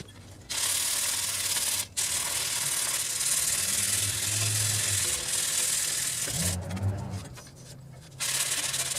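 Sandpaper rubs steadily over rusty metal tiller parts in long, continuous scraping passes, close and fairly loud, with a few brief pauses between passes.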